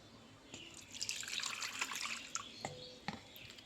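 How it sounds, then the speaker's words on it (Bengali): Flour dough mixed with salt and a little oil is washed under running water, with a soft, continuous splashing and trickling at a sink, quiet and close, broken by a few small drips and sloshes. "এরকমভাবে জল দিয়ে ভালো করে ধুতে হবে ময়দাটা।"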